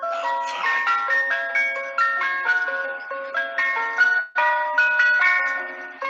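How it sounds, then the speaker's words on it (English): A new ice cream truck at the beach plays its tinkling music-box jingle, a bright repeating melody of clear bell-like notes that carries on steadily with one brief break near the end. "New ice cream truck."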